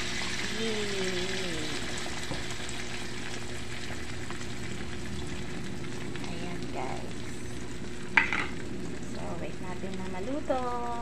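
Egg and sapsap fish fry in a pan with a steady, close sizzle that runs throughout. A sharp clack of a utensil comes near the end, and faint voices sit underneath.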